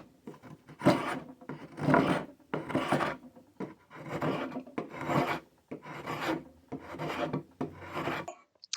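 A woodworking spokeshave shaving wood, about eight separate rasping strokes in a steady rhythm, close and fairly quiet, with short pauses between passes.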